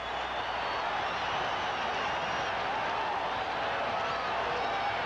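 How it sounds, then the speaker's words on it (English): Broadcast stadium crowd at a 1982 LSU vs. Alabama college football game in Birmingham roars in a steady, loud, sustained cheer that fills the whole stretch with no pauses. "This crowd has come to life here"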